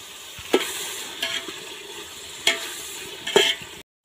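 Tomatoes, onion and green chilies sauté in a pan while cooking outdoors on a hilltop: a soft continuous sizzle broken by four sharp spoon scrapes and knocks against the pan, no voices.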